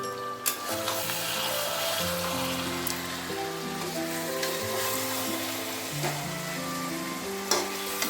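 Chicken fries in released oil with green chillies and chicken masala added, a continuous crackling sizzle with a few sharp utensil knocks against the pan.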